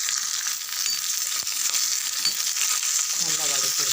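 Sliced onion sautéing in hot oil with garlic and dried red chillies in a pan, a loud continuous sizzle and crackle with occasional stirring scrapes, close up.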